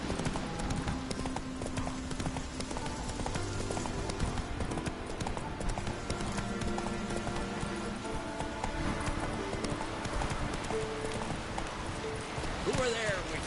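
Roach, a horse in The Witcher 3, gallops across the Islands of Skellige with steady drumming hoofbeats under a dense game music and ambience bed, the rhythm running continuously from start to finish.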